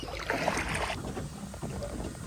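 Paddle strokes swish through water alongside a gentle wash of wind and lapping, steady and close, with no voices.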